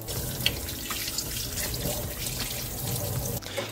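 Running tap water pours steadily into a sink while a lemon is washed under it, a continuous close splashing rush with no talk.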